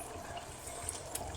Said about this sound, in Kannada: ಒಂತ ಪುಳಿತ ನೀರು ಪಾಡುವೆನು